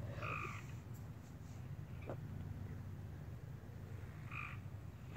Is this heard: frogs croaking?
yes